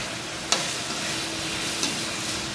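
Fish curry base with ginger garlic paste sautéing in a pan, a steady close sizzle with two sharp spoon clicks against the pan as it is stirred.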